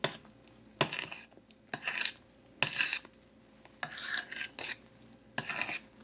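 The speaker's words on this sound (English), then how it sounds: "you see how that's mixing up and blending" Strawberry yogurt pie filling being mixed and folded in a bowl, with a series of scraping, stirring strokes coming in uneven bursts, close and moderately loud, no talking.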